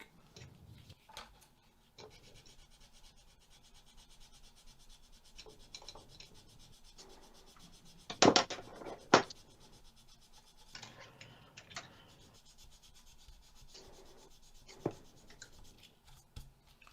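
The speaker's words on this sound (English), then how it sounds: "I've got a sanding stick." A sanding stick rubs and rasps in short scratchy strokes, mostly quiet and close, with a couple of sharper, louder scrapes partway through.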